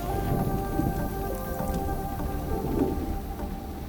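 Heavy rain pours down steadily in a thunderstorm, with low thunder rumbling underneath the dense hiss of falling drops throughout.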